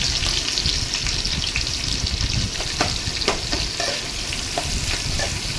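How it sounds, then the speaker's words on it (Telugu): Dried red chillies and onions frying in a pan, with a dense, continuous sizzle and crackle and occasional stirring scrapes, close and loud. "తిరువాత గింజలు బాగా ఫ్రై అయ్యాక ఎండుమిర్చి, ఆనియన్స్ వేసుకొని బాగా ఫ్రై చేసుకోవాలి"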